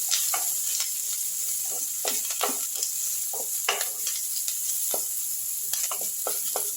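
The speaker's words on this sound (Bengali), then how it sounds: "পেঁয়াজটাও আমি ভাজা ভাজা করে নিচ্ছি" Chopped onion frying with mustard seeds and curry leaves in a pan, a continuous bright sizzle broken by frequent scraping stirs of the spatula, close and fairly loud with no talking.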